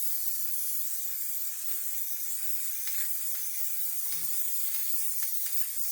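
A spray can of white primer hisses in a steady, continuous jet, loud and close, with a couple of faint clicks along the way and no talking.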